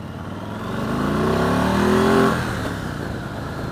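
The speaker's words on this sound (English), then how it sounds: "you hit the rev limiter real quick" A 2015 Yamaha Star Raider motorcycle engine revs, its note swelling to a loud peak and then easing back, close and without talk.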